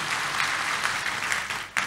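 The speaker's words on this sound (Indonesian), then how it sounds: "Tepuk tangan yang meriah buat Tuhan kita Yesus" A church congregation applauds, a steady dense wash of many hands clapping at moderate distance, holding evenly throughout with a brief dip near the end.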